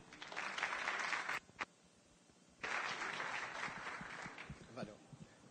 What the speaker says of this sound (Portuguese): Recebam com aplausos, por favor,